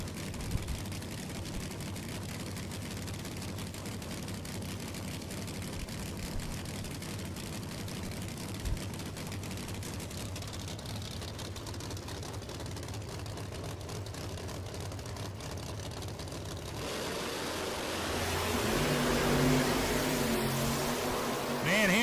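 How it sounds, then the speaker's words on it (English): Drag racing car with a huge engine and zoomy style headers crackling at the US Street Nationals, a steady distant rumble that swells louder near the end. "Huge engine sounds so great with the zoomy style headers on them,"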